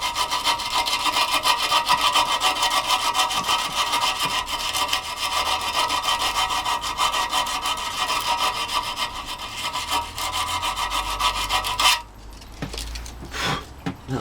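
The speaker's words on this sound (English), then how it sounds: "Just get a bit of sandpaper, clean that hole." Sandpaper is rubbed back and forth to clean out a hole on a Honda CB450 motorcycle engine part, giving a steady, rapid, close scratching rasp that stops near the end, followed by a few faint clicks.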